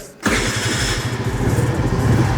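An RKS Bolero 50cc scooter engine starting: a brief starter whir, then the small motor catches and settles into a close, buzzy idle.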